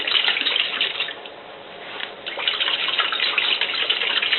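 Tap water gushes into a glass jar above a kitchen sink, a continuous splashing rush that dips briefly midway and then surges again, close and fairly loud with no talk.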